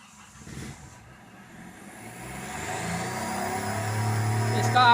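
A Hyundai i10 diesel engine, which has a ticking fault, cranks and catches, then idles and gradually rises in revs to a steady, growing rumble; someone talks over the start.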